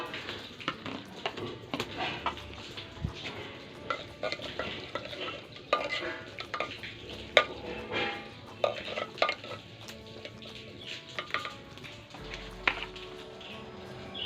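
Onions sizzling in hot oil in a pot for an aloo baingan eggplant curry, with steady frying crackle and repeated scraping and clinks of a spoon stirring against the pan throughout.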